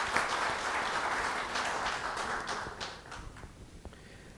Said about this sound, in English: can I please have a round of applause for our esteemed panelists?